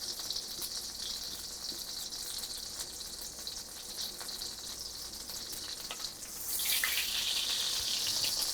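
Half a stick of butter melting in a pan gives a steady, close sizzle that holds evenly throughout and brightens into a louder, hissier frying near the end.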